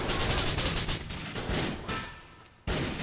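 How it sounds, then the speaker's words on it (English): Rapid bursts of GTA IV gunfire crackle in a dense, loud volley, a brief lull, then another sharp round of shots. "I'm gonna load and shoot him!"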